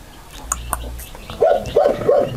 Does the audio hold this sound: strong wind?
no